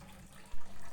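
Water used for washing ghee pours off in a brief, faint rush, like a short stream from a tap splashing into a sink.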